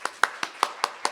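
Six evenly spaced claps from a symposium audience greeting a presenter, fairly faint and crisp in a quiet hall.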